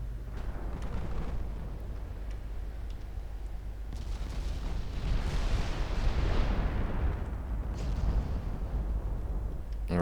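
Naval gunfire and high-explosive shells in a battleship strategy game, a continuous rumbling barrage of booms and blasts blending into a dense roar that swells midway, with no talk heard.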